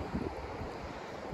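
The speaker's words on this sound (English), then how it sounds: "The wind is shocking." Strong wind on a South Wales beach buffets the microphone in a steady low roar, with a faint wash of surf behind it and no voices.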